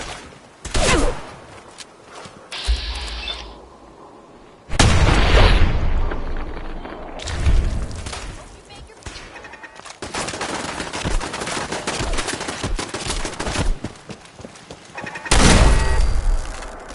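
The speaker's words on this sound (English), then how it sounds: "I need covering fire!" Video game gunfire and explosions erupt in loud bursts: rapid automatic fire, heavy booms and scattered single shots. Quieter gaps fall between the blasts.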